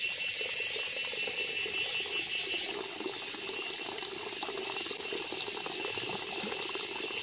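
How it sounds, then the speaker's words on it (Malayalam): Water pouring steadily from the overflow of a fish pond filter with an aerator, a constant close rushing splash with faint insect chirps in the background. "നമ്മൾ ഓവർഫ്ലോയിൽ കൂടെ വെള്ളം വന്നു തുടങ്ങി."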